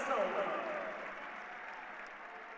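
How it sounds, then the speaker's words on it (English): Cheers from a Virginia Tech home crowd at a college wrestling dual against Ohio State, a broad, distant roar of applause and cheering that slowly fades, with a commentator's voice over it. "Emphatic reaction from that Hokie crowd."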